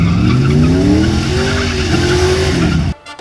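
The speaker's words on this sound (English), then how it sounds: "Flashback to when I did my burnout." Car doing a burnout, tyres squealing loudly and continuously with a rising and falling engine whine underneath, close by, cutting off abruptly near the end.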